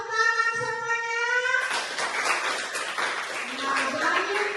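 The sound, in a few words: group clapping hands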